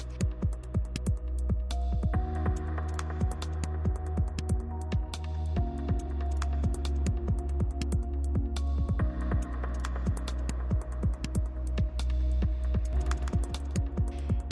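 A laser engraver set up for rotary engraving hums and throbs steadily, with repeated clicking pulses and stepping motor tones shifting as the job runs, close and continuous with no talking.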